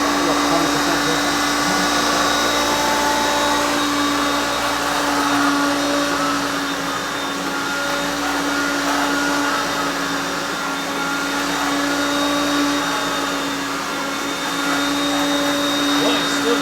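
A Hoover Concept One vacuum cleaner runs steadily on carpet with a loud, even motor drone and a high whine, its pitch shifting slightly midway as the speed changes, while a person talks over it.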